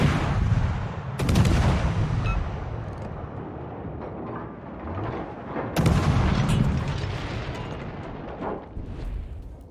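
Naval gunfire from a destroyer in World of Warships: two heavy booming salvos about four seconds apart, each with a sharp crack and a long rumbling tail over steady engine and sea noise.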